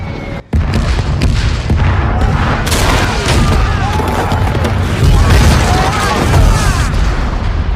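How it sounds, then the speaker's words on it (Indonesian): Bombs dropping and exploding in an action film about Taliban fighters, with a loud continuous rumble of booms and blasts and sharper cracks layered through it, and voices mixed in among the explosions. "Lalu ketika sasaran sudah terkonfirmasi, bom demi bom pun dijatuhkan."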